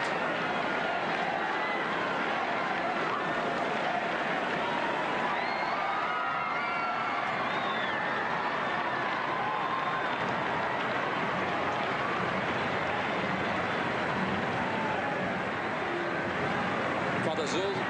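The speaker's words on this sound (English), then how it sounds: "what you can hear the crowd already beginning to say is Benedict" A large crowd in St. Peter's Square at a papal election roars and cheers continuously at a distance, a dense wash of voices with chanting woven through, with a voice talking over it.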